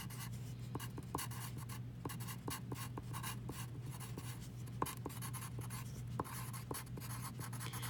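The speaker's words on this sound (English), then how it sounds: "So I'm going to write that here." A teacher writing notes by hand, a run of close, crisp ticking and scratching strokes in an irregular rhythm over a quiet hum, no talking.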